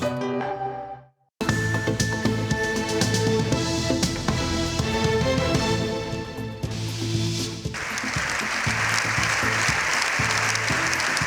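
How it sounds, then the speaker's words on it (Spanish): Sustained applause from a large crowd, dense and continuous after a brief silent gap, swelling louder toward the end. "Siete minutos de aplausos ininterrumpidos."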